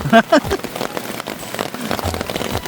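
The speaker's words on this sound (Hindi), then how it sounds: "खाना तो बन गया, लेकिन बारिश ने खाने नहीं दिया।" Rain patters steadily on surfaces and an umbrella during a riverside picnic, a close, dense hiss with a few sharp tones at the start and some voices mixed in.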